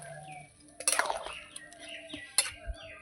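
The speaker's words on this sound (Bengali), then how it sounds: "আলুটাও দিয়ে দেব নাড়িয়ে নেবো" Potatoes and soybeans are stirred in a cooking pot with a utensil, making a few close metallic scrapes and clinks, one burst early and a sharper knock later, fairly quiet, with faint bird chirps in the background.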